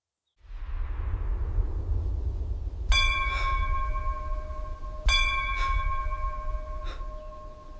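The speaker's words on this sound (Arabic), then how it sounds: "صوت جرس." A ringing bell strikes twice, loud and clear with long ringing overtones, then gives a fainter third tone, all over a low, constant wind-like rumble.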